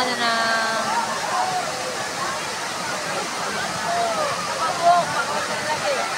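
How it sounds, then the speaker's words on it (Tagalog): Steady broadband rush of strong, fast-flowing river water in Laguna fills the clip, with a person talking faintly over it. "Sa sobrang lakas ng flow ng water"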